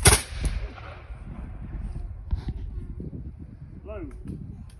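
A single loud shot from a historical rifle that fires a thumb-sized slug at a military history demonstration, followed by a decaying rumble and echo with faint voices around it.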